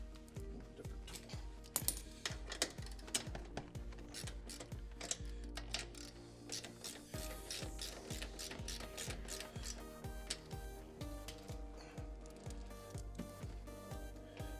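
A ratchet wrench clicks rapidly and steadily while tightening bolts during a car audio subwoofer install, with a dense run of close mechanical ratcheting and a deep rhythmic thump pulsing under it.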